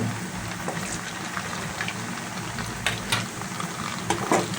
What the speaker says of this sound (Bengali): আমি একটু লাল লাল করে বন্ধুরা কড়া কড়া করে ভেজে নেব